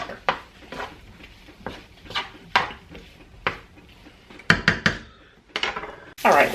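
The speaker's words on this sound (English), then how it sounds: "we're just going to saute these up until they're nice and brown in color" Hot dogs browning in a pan, with a series of sharp clanks and scrapes of a utensil against the metal over a faint background sizzle.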